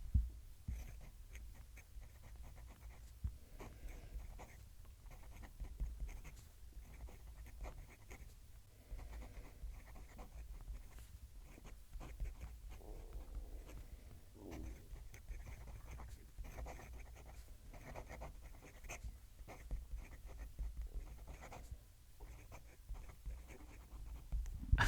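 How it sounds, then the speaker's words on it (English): A Retro 51 Tornado Lincoln fountain pen writes on paper with close, soft, continuous scratching strokes broken by brief pauses, with no talk over it. "I'm going to move the mic down to the page so you can hear the pen writing"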